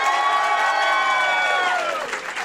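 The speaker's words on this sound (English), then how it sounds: "you cheer and clap for the style you believe in" A studio audience cheers and claps together in one continuous burst, loud and close, with the roar fading slightly toward the end and no talk over it.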